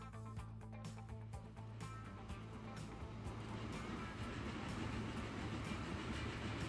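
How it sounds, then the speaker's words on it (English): Steam coal train running in the game Transport Fever 2, a steady dense rumble of wheels and machinery with clicking rail joints, continuous and fairly loud throughout with no talk. "Let's have a quick look at the train on the coal line again."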